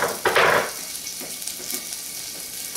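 Lentil sprouts and fresh chopped onions hit oil in a pan with a brief loud sizzle, then settle into a softer, steady frying crackle with occasional stirring clinks.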